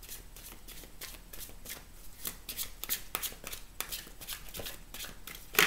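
Tarot cards being shuffled by hand, a steady run of crisp riffling and flicking bursts at close range with no talking, ending in a slightly louder snap.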